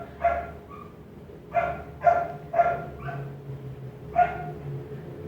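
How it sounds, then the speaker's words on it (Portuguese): A neighbour's dog barking off in the distance, about six separate barks with a couple of faint yips between them, in an irregular rhythm over a low steady background hum. "O cachorro da vizinha resolveu cantar agora"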